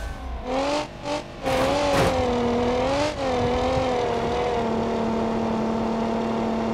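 A front-wheel drive derby car in BeamNG.drive revs and accelerates, its engine climbing through rising, wavering pitches with brief gear-change dips, then settling into a steady drone.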